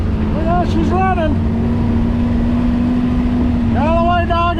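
An old Willys jeep engine drones steadily while driving, a low continuous rumble with a faint whine, and someone talks over it.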